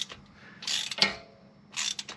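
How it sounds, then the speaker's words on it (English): Ratcheting wrench loosening the bolts on a Jeep JLU Dana 44 differential during a fluid change, with short metallic clicking bursts in a few separate groups, close and moderately loud, with no talking. "as I loosen the bolts and crack it loose"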